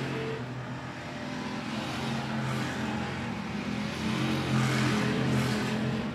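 Hobby stock race cars circle the I-76 Speedway oval, several engines droning and rising as cars pass, a continuous moderately loud roar without speech.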